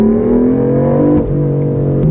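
A BMW M4 Cabrio engine drones loudly up close, a steady throaty hum that dips briefly midway and then holds again.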